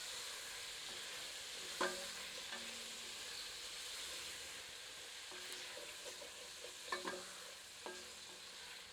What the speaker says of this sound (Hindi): हमें चिकन को बहुत अधिक करारा नहीं करना, बस थोड़ा तलना है।